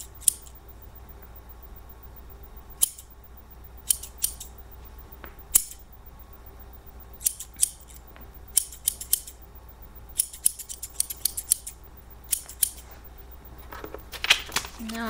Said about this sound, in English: So first I'll do a few cuts of them in the air.